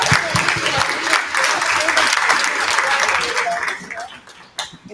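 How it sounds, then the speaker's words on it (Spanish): Applause from the audience at an academic conference session on education and health, close and fairly loud, thinning gradually toward the end with a final stray clap, and voices faintly underneath. "Un aplauso para todos."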